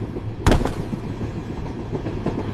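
A train rolls along rails with a sharp clank near the start, followed by a steady low rumble and faint rhythmic rattling of the wagons.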